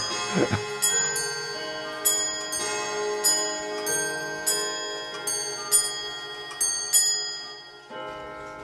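Many clocks tick steadily in a clockmaker's workshop, with bright bell chimes ringing out about once a second over the layered ticking, fairly close and clear with no talk.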